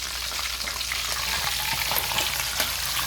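Oil sizzles and crackles loudly and steadily, close up, with small pops scattered through the constant frying hiss.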